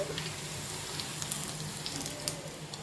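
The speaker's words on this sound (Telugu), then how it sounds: "గోల్డెన్ బ్రౌన్ కలర్ వచ్చేంత వరకు వేయించుకోవాలి." Poha frying in hot oil until golden brown, a steady close sizzle and bubbling hiss with faint crackles throughout, no voices.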